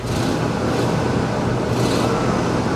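Engine revving on a 1988 Chevrolet Monte Carlo SS with a small exhaust leak, a steady loud broadband roar that swells twice over a few seconds, heard close with no talk.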